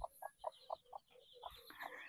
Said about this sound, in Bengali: আরও কিছু দেশি মুরগি দেখতে পাচ্ছি।